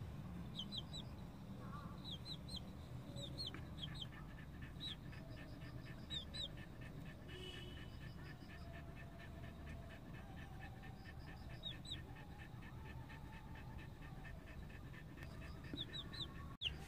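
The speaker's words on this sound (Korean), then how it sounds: "꼬꼬, 일로 와" Chickens cluck and murmur steadily in a busy coop, with scattered higher chirps over a constant low background hum, fairly close.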